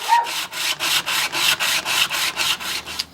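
Back side of a blade rubbed on a 200 grit sharpening stone in a dozen even, rhythmic strokes, each a close, gritty scrape.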